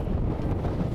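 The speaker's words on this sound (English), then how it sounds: "it's kind of windy." Steady wind buffets a microphone on a boat during a Bassmaster fishing tournament, making a loud, continuous low roar and rushing noise with no talking.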